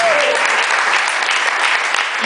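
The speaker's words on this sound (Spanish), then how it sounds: "Ponle un aplauso a Jesús entonces." Congregation applauding in a church service, a loud, dense burst of steady clapping from many people, close and continuous throughout.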